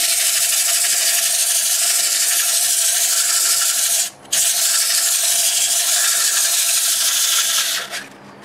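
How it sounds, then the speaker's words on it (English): Sandpaper rubs against turned wood spinning in reverse on a lathe, making a loud, continuous close-up hiss that cuts out briefly midway, then resumes before tapering off. "I'll also sand that in reverse to help get rid of that fuzzy area"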